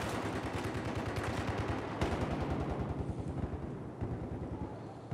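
Gunfire in a Battlefield 4 team deathmatch on Operation Locker, heard as a dense, continuous stream of rapid shots and blasts at a moderate distance, mixed together with no talking.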